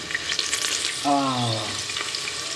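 Onions and green chillies frying in a pressure cooker, giving a close, steady sizzle with a brief tonal whine partway through.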